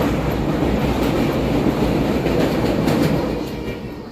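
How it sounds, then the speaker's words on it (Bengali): Train rumbling across the Muhuri river bridge near Bilonia station in Tripura, a loud steady roar with faint clickety-clack from the wheels that fades slightly at the end. "মুহুরী নদীর ব্রিজের আওয়াজ শুনে বিলোনিয়াবাসী সতর্ক হয়ে যান যে সামনে বিলোনিয়া রেল স্টেশন রয়েছে"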